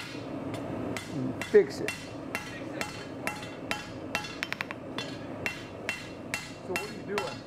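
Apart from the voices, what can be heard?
hammer striking a blade while forging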